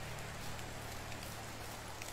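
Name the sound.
rain in the video game Medieval Dynasty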